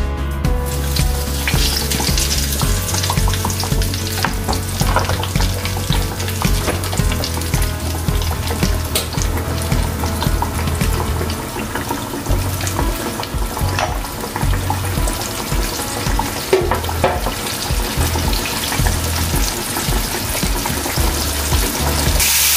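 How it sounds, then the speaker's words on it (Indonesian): Food frying steadily in a pan, a continuous loud crackling sizzle with occasional spatters and stirring scrapes, close up and without speech. "Langsung saja digoreng ya"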